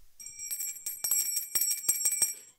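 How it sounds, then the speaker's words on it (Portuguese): An attention bell sound effect rings in a quick series of bright, ringing strikes with sustained high tones, fairly loud and alone with no voices. "sino da atenção, presta atenção."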